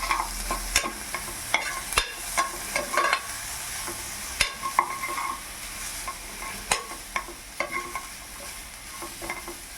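Turmeric, coriander and garam masala powders sautéed in a pan, a soft sizzle under sharp, irregular scraping and knocking of a spoon stirring close by, with no voices.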